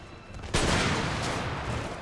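A musket volley in the video game Empire: Total War, a sudden loud burst of many shots fired at once, then a sustained rolling crackle of gunfire that stays dense and close with no talk.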